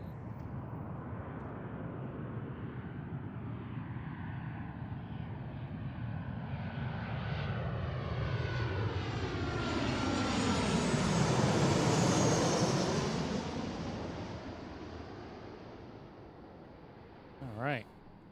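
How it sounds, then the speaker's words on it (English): An Alaska Airlines Boeing 737 lands on runway 34 Left at Seattle in the evening. Its jet roar swells steadily to a loud, close peak as it passes, then fades, with a brief sharp knock near the end. "Yet another Alaska 737."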